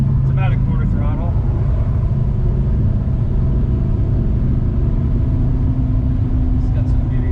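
A 2015 Audi R8 V10 with a very loud custom exhaust at about quarter throttle, a steady deep engine rumble heard from inside the car, loud and continuous with a brief voice near the start.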